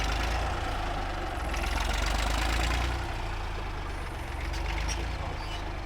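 Diesel engine of a 1959 Fordson Dexta tractor running steadily nearby, a loud, constant low rumble with a dense mechanical clatter and no breaks.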